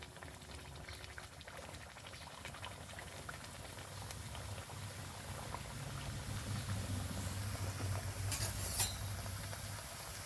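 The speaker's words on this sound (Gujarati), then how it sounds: "ધીમા ગેસે તળવાની, એટલે સરસ અંદરથી થઈ જાય ક્રિસ્પી." Puris made from wheat flour frying in hot oil over a low flame, a continuous soft bubbling sizzle that grows slightly stronger toward the end, quiet and close with no talk.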